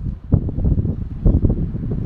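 Outdoor wind gusts buffet the microphone in low, rumbling bursts, loud and close, with a couple of stronger blasts in a short stretch.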